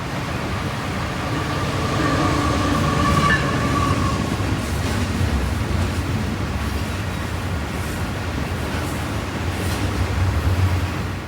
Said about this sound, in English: an eastbound intermodal rockets past our cars